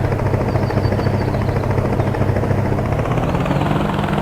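Continuous loud video game helicopter rotor thump and engine whine, steady and close, with no talking.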